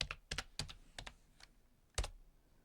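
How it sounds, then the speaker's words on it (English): Soft, close typing on a computer keyboard in a quiet ASMR retro programming setting: a quick run of crisp keystrokes, a brief pause, then a few more taps. "So I type again"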